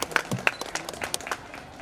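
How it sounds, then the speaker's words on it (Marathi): A few people clapping at a school event, scattered and uneven claps with a little room noise, faint and brief. "सगळ्यांनी टाळ्या वाजवायच्या."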